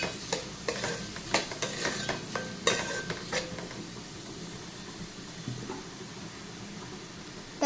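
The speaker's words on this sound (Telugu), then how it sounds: "ఇప్పుడైతే మనము ఉల్లిపాయలు పచ్చిమిరపకాయ వేసేద్దాం. ఒకసారి మిక్స్ చేసేద్దాం." Onions and green chillies stirred in hot frying oil, with a run of sharp scraping stirs and clatters over a steady sizzle that eases into a quieter, even frying hiss.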